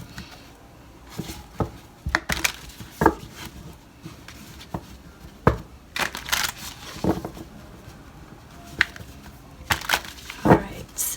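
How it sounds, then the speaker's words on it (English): Oracle cards being shuffled by hand in irregular bursts of crisp, papery riffles and taps, fairly close and moderately quiet, with stretches of near silence between them and no talk over the shuffling. "take a nice deep breath while I shuffle these cards"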